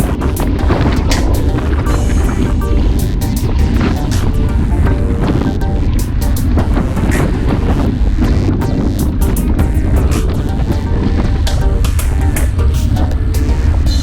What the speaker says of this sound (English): there's nothing here to shield us from the wind. That thing's blowing.